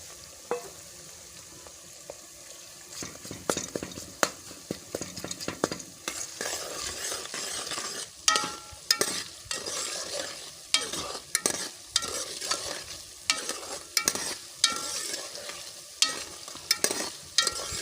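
Ginger and garlic paste sizzles steadily in a hot pan while a spoon stirs and scrapes repeatedly, with frequent clinks against the metal.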